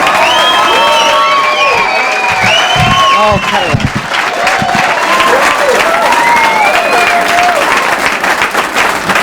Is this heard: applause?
yes